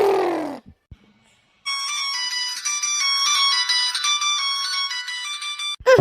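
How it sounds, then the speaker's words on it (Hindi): Mobile phone ringtone in a comedy cartoon, a bright electronic melody repeating steadily for several seconds after a short break, loud and with no talk over it. "क्या का फोन बाजे लागा भाई,"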